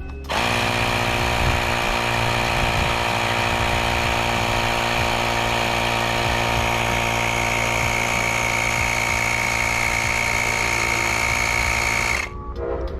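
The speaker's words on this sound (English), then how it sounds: "we'll go ahead and hook this up and we'll start it" Fanttik X9 electric air pump running steadily while inflating a mountain bike tire outdoors, a loud continuous motor whine with buzzing harmonics for about twelve seconds before cutting off abruptly.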